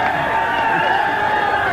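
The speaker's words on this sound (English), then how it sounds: "As you can tell, the crowd is quite vocal." A large, vocal crowd gathered outside the Boston Garden keeps up a steady, loud roar of mingled voices throughout.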